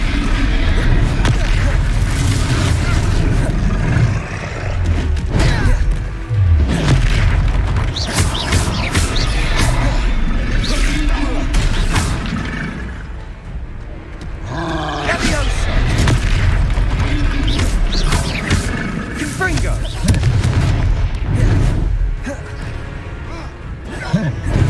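Confringo blasting spell explosions in the video game Hogwarts Legacy, a dense run of loud booms and crashes under near-constant shouted spell casting, with a brief lull in the middle.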